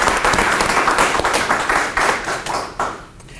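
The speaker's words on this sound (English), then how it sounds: "round of applause." An audience claps for students at a campus HIV prevention advocacy event, a short burst of dense applause that fades out over a few seconds.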